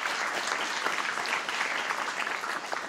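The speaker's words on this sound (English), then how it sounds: "give them a round of applause" A crowd at an MIT Enterprise Forum evening event applauds, with steady dense clapping that stays loud and even throughout, no voices standing out.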